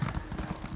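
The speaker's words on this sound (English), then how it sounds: "Yeah, we can mount our horses." Horse hooves clip-clop in a steady, quick rhythm as mounts travel in the fantasy video game Elder Scrolls Online, close and moderately loud over a continuous background bed.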